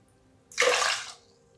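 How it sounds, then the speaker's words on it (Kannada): Water poured into a cooking pot for sweet pongal, six cups' worth, makes a short, close splashing gush that swells and then stops, with no talk over it. "ಇದೇ ಕಪ್ ಅಲ್ಲಿ 6 ಕಪ್ ಆಗುವಷ್ಟು ನೀರನ್ನು ಹಾಕೊಳ್ತಾ ಇದೀನಿ"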